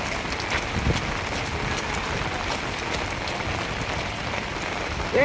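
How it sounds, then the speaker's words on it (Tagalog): Steady rain pattering on a surface with a constant wash of noise and occasional brighter drops, no voices. "Dahil umuulan."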